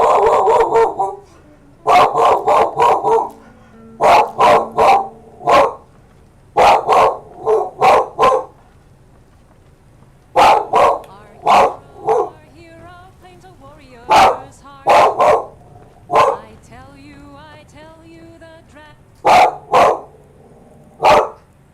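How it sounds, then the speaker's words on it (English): A dog barks at people walking past the house, loud close bursts of two to four sharp barks separated by pauses, with occasional yips and whimpers between. "Lieutenant, you can stop barking."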